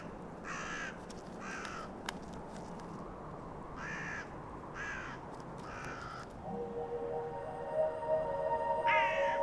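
Crows cawing near an animal carcass in the mountains: several harsh caws in short bursts at moderate distance over a soft wind-like background, with a sustained tonal drone entering near the end.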